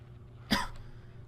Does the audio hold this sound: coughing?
yes